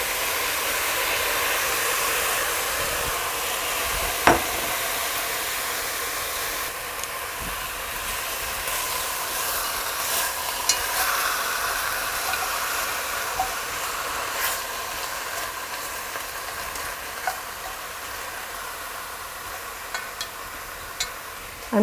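Marinated pork ribs sizzle in a heated pot, a steady broad hiss of frying with scattered small pops and crackles running on for over twenty seconds, fairly quiet with no one speaking.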